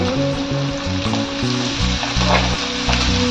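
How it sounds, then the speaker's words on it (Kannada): Curry leaves and long-slit green chillies sizzle and spatter steadily in hot oil in a pan while cooking coconut rice, a continuous close, loud frying crackle with faint stirring underneath and no talk. "ಈಗೆಲ್ಲ ಚೆನ್ನಾಗಿ ಫ್ರೈ ಮಾಡ್ಕೊಳ್ಳೋಣ."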